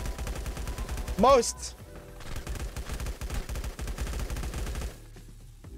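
Gunfire in the survival game LifeAfter, a busy run of rapid shots under game music and other effects, with a brief shouted word partway through.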